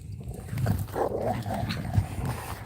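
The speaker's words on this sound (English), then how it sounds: "my dogs" Dogs outdoors in snow, with growly, rough vocal bursts at close range that sound more like grumbling or playful growls than clear barks, over steady low background noise.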